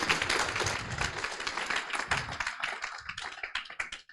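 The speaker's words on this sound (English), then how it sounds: "Big round of applause." At a climate startup pitch final, the audience claps after a pitch, a fairly quiet burst of many hands that thins out and fades toward the end.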